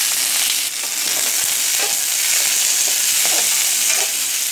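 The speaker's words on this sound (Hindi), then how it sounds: "हम अपना अनियन और कैप्सिकम को सौते कर लेंगे" Onion and capsicum sauté in a pan with a steady, close sizzle, broken by a few soft scrapes and stirs of a spatula, and no voices.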